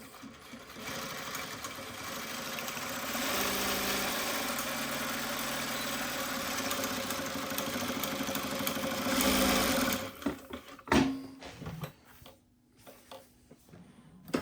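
A Jack JK-T2284B direct-drive industrial sewing machine sews a zigzag stitch in a long continuous run, a close steady whir that stops near the end and gives way to handling clatter.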